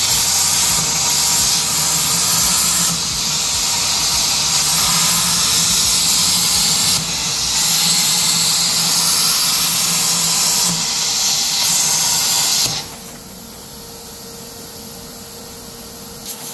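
Loud, steady cutting-torch roar and hiss as the flame pierces and blasts through a Dana 70 front axle tube and housing, continuous for about thirteen seconds and then dropping away to a quieter hiss.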